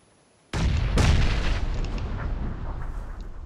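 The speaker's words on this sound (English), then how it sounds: "I'll throw a nade out there." A grenade explodes in PUBG on the Sanhok map: a sudden heavy boom, quickly followed by a second blast, then a long rolling rumble that slowly fades, loud and close with no voices.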